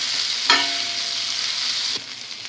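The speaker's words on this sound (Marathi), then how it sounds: "आता हलक्या हाताने ना आपण भेंडी सगळी फोडणीमध्ये मिक्स करून घेऊया" Finely chopped okra sizzling loudly in hot tempering in a pan, a steady close frying hiss with a spatula scrape near the start and another near the end, no voices.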